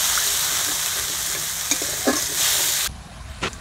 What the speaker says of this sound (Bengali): এবার এটাকে আমি ভেজে নেব, অল্প জল দিয়ে দিচ্ছি